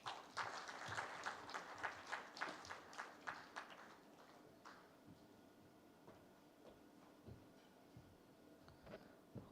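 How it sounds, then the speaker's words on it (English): Audience applause at a medical value travel summit after a presentation: dense clapping from a seated crowd, strong for about four seconds and then thinning to scattered, fading claps. "once again a huge round of applause"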